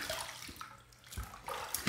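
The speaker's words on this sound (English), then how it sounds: "Let's rinse one more time here." Water from a running tap splashes and gurgles in short bursts as a face is rinsed during a wet shave, heard briefly and close with no voices.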